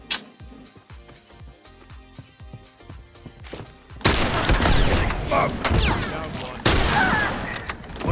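A loud burst of gunfire in The Last of Us multiplayer breaks out midway after a stretch of quieter ticking and tapping, with rapid overlapping shots and a second heavy burst near the end.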